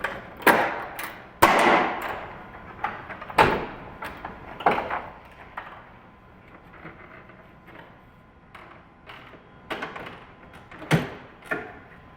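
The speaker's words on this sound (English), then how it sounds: "let's open the cowling so we can see more closely what we're looking at" The engine cowling on an Airbus H125 helicopter is unlatched and swung open up close, giving a run of sharp metallic clicks, clunks and latch snaps with brief pauses between them.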